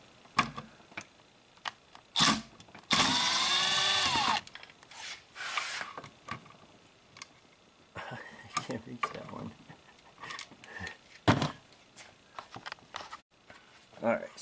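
A power tool undoes Torx screws on a Mazda 3 ABS hydraulic unit on a workbench: one loud, steady whirring burst of a few seconds among scattered clicks, rattles and handling knocks.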